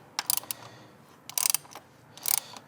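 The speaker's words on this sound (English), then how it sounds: "go ahead and snug up these two nuts right here" A ratchet wrench snugs up nuts during a Grimmspeed intercooler install on a 2015-2020 Subaru WRX, heard as three short bursts of rapid clicking separated by pauses, close and crisp.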